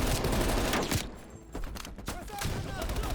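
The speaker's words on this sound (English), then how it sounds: "Heavy MG on the ridge." Heavy machine gun fire rattles in the Call of Duty Black Ops Cold War campaign finale. Dense, loud bursts fill the opening second, ease off briefly and then return as sustained gunfire. Voices are faintly present.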